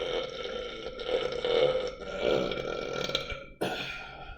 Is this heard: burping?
yes